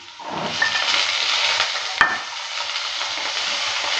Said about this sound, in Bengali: টমেটোটা দেওয়ার পর ভালো করে আবারও নেড়ে চেড়ে দিচ্ছি।